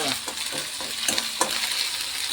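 Onion fries in oil with a bright, continuous sizzle close up, broken by a few scraping stirs of a spoon through the pan; no one speaks.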